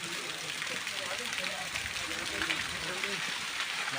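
Water flows on a high mountain in a steady rushing wash, with people talking over it throughout.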